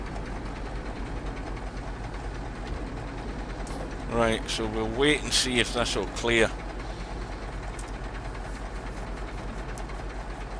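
A train rolls past on a railway crossing in the Euro Truck Simulator 2 video game, on a Russian route. It makes a steady, low mechanical rumble throughout, with someone talking briefly over it midway.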